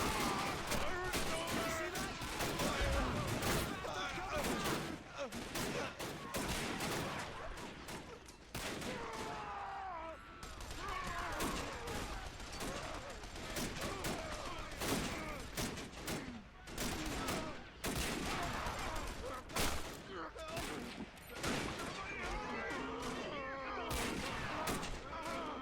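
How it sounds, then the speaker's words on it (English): Street fighting in a Battle of Richmond war game, with dense continuous rifle and machine-gun fire crackling and popping nonstop, loud and close, mixed with distant booms. "absolute brutal exchange of fire here on this street."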